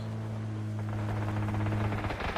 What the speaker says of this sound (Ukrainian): Десь на горі там стріляють.